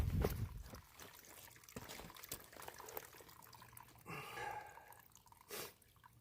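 Spring water trickles and drips through a piece of bark at a spring on the Appalachian Trail, faint and uneven with small splashes and a brief gurgle of pouring.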